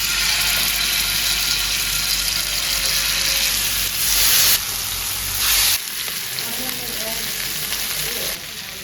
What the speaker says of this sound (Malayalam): ചിക്കൻ വറുക്കാനായിട്ട് വെക്കാം. എണ്ണ ചൂടായി കഴിഞ്ഞു.